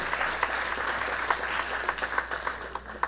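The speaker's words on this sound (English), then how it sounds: "Let's give them a big round of applause." Applause from a festival crowd after a speech, steady clapping with scattered louder claps, continuing throughout at moderate volume.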